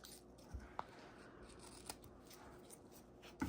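Scissors trimming paper for a craft tag, a few soft close snips over a quiet room background.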